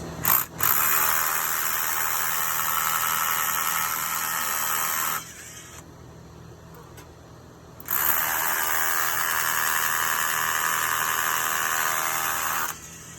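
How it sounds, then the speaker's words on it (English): Power drill boring two holes with an oversized concrete bit while a downspout is mounted, two loud sustained bursts of roughly five seconds each separated by a short quiet pause. "So use an oversized concrete bit. I drill 2 holes."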